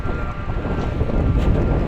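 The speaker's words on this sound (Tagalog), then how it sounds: "Mahangin doon sa Mina Breakwater guys" Steady wind buffets the microphone at Mina Breakwater, Abu Dhabi, a continuous low rumble with broadband gusty noise that holds loud and even throughout.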